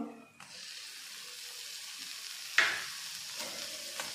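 Chopped tomato sautéing in a pan for kabuli chana usal, a steady broad sizzle with a spatula scrape partway through.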